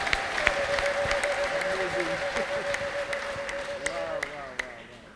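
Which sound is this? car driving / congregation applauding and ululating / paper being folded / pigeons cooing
congregation applauding and ululating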